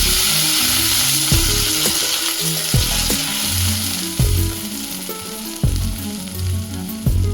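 Tomato chutney with green chillies fries in a pan, hissing and sizzling loudly throughout. A spoon stirs it several times in a row, each pass a sharp scrape against the pan.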